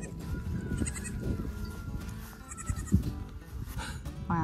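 Goats bleating on a family homestead as they are moved out to graze, several wavering calls rising over a busy, noisy outdoor background, fairly close and moderately loud, with no talk.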